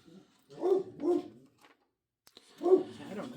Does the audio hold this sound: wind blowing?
no